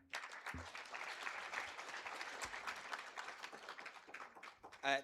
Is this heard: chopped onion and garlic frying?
no